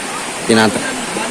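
Steady broadband rush of a gentle river current in shallow water, with a brief louder burst of a voice-like sound partway through.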